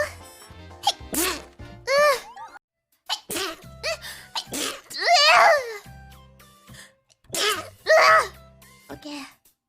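A young woman sneezes several times in a row, each a loud close burst, with cute squeaky vocal sounds and short exclamations between them over quiet background music.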